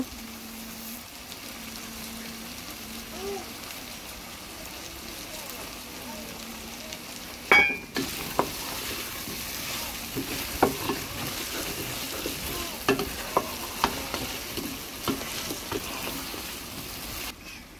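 Royal jujube frying over medium heat with whole black cumin and fennel, a steady sizzle with a low hum, then sharper scrapes and clatters of stirring in the pan.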